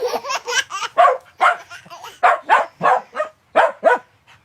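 A dog barks about a dozen times in quick, uneven bursts, close and loud, as young twins play happily with it.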